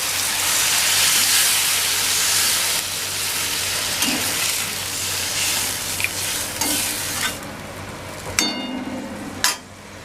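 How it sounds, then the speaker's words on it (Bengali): Water poured into a pan of spiced fried potatoes sets off a loud, broad hiss and sizzle that gradually softens, with a few sharp knocks toward the end. "এবার আমি পরিমাণ মতো জল দিয়ে দিচ্ছি।"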